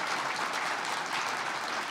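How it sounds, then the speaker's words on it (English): Brief burst of dense, even audience applause for speakers at a beef efficiency conference, steady and fairly close throughout. "Let's give our speakers another big round of applause."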